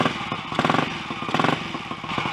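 A Royal Enfield 250 GT single-cylinder motorcycle engine, under investigation for poor performance, runs close by with a loud, steady, rhythmic thumping beat and mechanical clatter.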